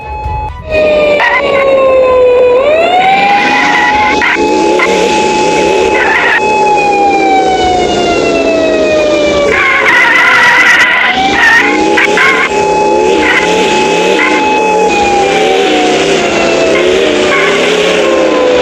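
An animated haunted Alphard police car races along with its siren wailing, a loud, steady electronic tone that sweeps up and down almost continuously, alongside engine and traffic noise and no talking.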